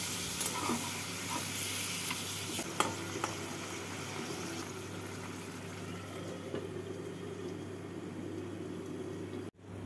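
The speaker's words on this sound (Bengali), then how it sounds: "জল দিয়ে নাড়াচাড়া করে গ্যাসটাকে মিডিয়াম ফ্লেমে রেখে 5 মিনিটের জন্য ঢাকা দিয়ে দেবো।" Pointed gourd with spices and a little water cooks in a pan on a medium flame, giving a steady, soft sizzle with a few faint scraping stirs, fairly quiet and continuous until a sudden clunk at the end.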